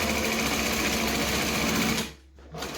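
A sewing machine stitches a bag lining in a close, loud, rapid mechanical whir that runs steadily, briefly stops, then starts up again.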